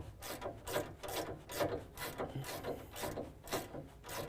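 A ratchet turns an 18mm sway bar end link bolt on a 2017 Ford F-250 Super Duty, close rhythmic clicking strokes repeating about twice per second, each a short gritty burst.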